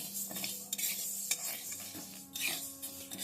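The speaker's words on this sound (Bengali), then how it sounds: "কড়াইটা গরম হয়ে গেছে এবার ডালটা ভেজে নিচ্ছি" Moong dal is dry-roasted in a hot kadai and stirred with a spatula, giving repeated scraping strokes and a light crackling sizzle close up.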